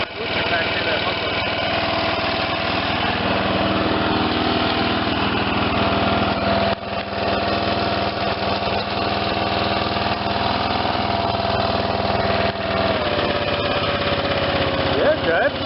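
The Briggs and Stratton 8hp engine of a 1986 Lawn Chief 300 riding mower runs steadily and loudly up close, with a brief dip around the middle, while a voice speaks over it.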